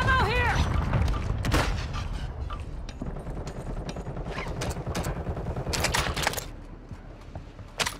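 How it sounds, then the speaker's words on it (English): Video game gunfire crackles in rapid bursts and scattered shots throughout, mixed with mechanical clatter and occasional voices, dense and fairly loud the whole time. "I'm getting shot at"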